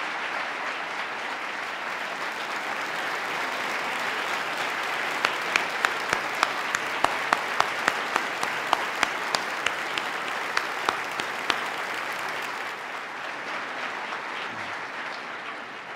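An audience at the 2018 New York State of the State Address breaks into sustained applause, a dense wash of clapping with a few sharp, closer claps standing out in the middle before it gradually tapers.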